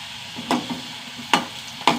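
Hot oil sizzles steadily, broken by three sharp bursts of crackling spatter as food hits the pan.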